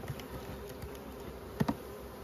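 Honey bees buzz steadily at an open, queenless hive with low bee numbers, a soft continuous hum with a couple of faint close knocks near the end.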